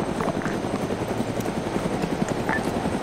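Military helicopters in a video game drone nearby, a steady loud rotor thump with rapid rhythmic chopping throughout, no speech.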